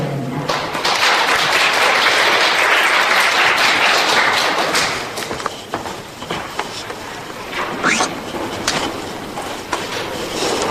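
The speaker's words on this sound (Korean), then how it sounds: "모두 큰 박수로 맞아주시기 바랍니다." Audience applause welcomes a lecturer at a public health talk. Loud, dense clapping fills the room, then thins into scattered, uneven claps with some murmuring.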